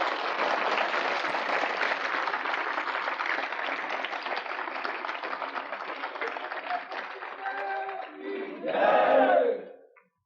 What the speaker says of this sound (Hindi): ताली बजाइए आप जोर से